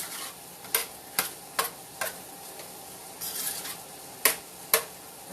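Corn is stirred in a pot for an Easter meal, with a spoon scraping and tapping against the pot in a loose, regular rhythm of about eight distinct strokes over a soft sizzle.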